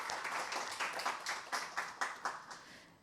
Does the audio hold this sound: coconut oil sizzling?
no